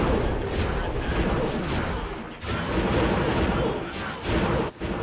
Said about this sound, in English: aim our ship directly at that ISD so we can get all our guns firing straight ahead